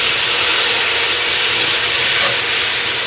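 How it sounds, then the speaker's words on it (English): Steam hisses loudly and steadily as chicken broth is poured into a hot pot of chicken and sausage gumbo, a close, continuous broadband rush. "Watch out for that steam."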